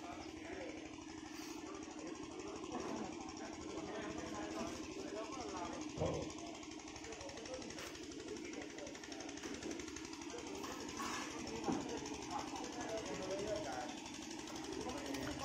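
A fishing boat engine on the Brahmaputra river as the boat returns at dawn with its catch; a steady mechanical chugging and rattling drone runs throughout under outdoor noise, with people talking nearby.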